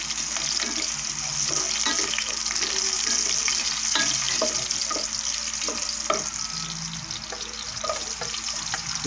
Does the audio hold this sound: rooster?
no